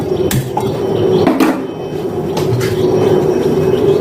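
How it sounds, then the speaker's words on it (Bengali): A gas stove burner is lit under a frying pan with a few sharp igniter clicks spaced about a second apart over a steady rushing hiss, close and fairly loud, with no talking. "ফ্রাই প্যানটা গ্যাসে বসিয়ে গ্যাসটা জ্বালিয়ে নেব"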